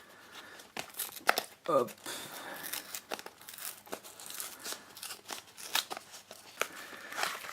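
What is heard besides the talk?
opening the packaging of a Yu-Gi-Oh Speed Duel box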